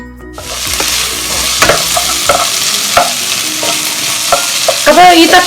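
Chopped tomato sautéing in a pan for a Kerala egg theeyal curry, a loud steady sizzle with repeated spoon scrapes and stirs, growing more bubbly toward the end.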